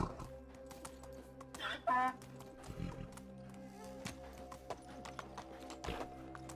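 Donkey hooves clip-clop in the medieval life-sim game Medieval Dynasty, a steady rhythmic patter of hoofbeats under a game soundscape, with a brief louder burst near the middle and someone talking over parts of it.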